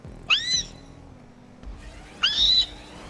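Cat in Grand Theft Auto V meowing as its tail is pulled, two distinct high, drawn-out yowls about two seconds apart, fairly clear above a low background hum.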